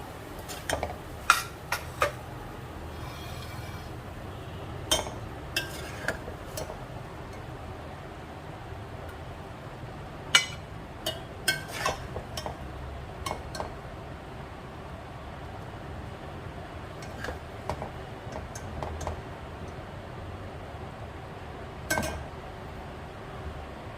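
Cooked okra (bhindi) being served into a dish, with repeated light clinks and scrapes of a utensil against cookware, irregular and close, over a quiet kitchen background.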